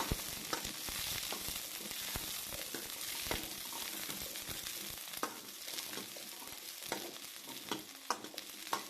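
Whole tomatoes and sliced onions sautéing in hot oil for a cauliflower gravy, a continuous close sizzle broken by irregular stirring scrapes and pops, with no voices.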